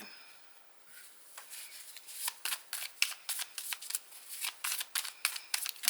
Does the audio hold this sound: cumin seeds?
no